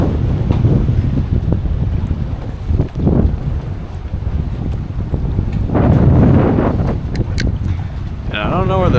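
Strong wind of 40 to 50 mph roars across open water during a snook fishing trip, a heavy constant rumble buffeting the microphone, with water sloshing and a brief bright tone near the end.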